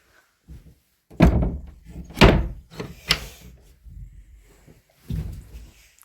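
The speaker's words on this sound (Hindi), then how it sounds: "मुझे वो बारी वापस बंद करनी पड़ेगी" Window being closed in a village home, several close wooden thuds and a door-like slam, loud knocks spaced out with short rattles between.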